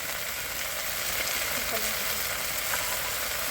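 Spice paste for a snakehead fish curry sizzles steadily in hot oil, a close, continuous crackling fry with faint stirring.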